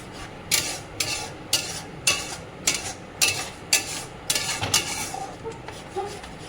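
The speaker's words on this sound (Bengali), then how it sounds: "দইটা দেওয়ার পর কন্টিনিউয়াসলি নাড়তে হবে" Yogurt being stirred continuously into a pot for doi katla, a Bengali fish curry, on the stove. A spoon scrapes the pan in a steady rhythm of about ten repeated strokes, close and moderately loud.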